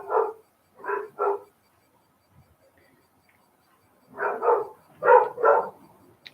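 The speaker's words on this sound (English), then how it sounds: "Sorry, the dogs are a bit active." Dogs bark indoors in short, sharp pairs and triplets, loud and fairly near, with a quiet stretch between the first volley and a later burst of four barks.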